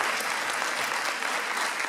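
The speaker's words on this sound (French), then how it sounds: "On l'applaudit bien fort" An audience applauds a trumpet student at a school Christmas show, a dense, steady burst of clapping throughout.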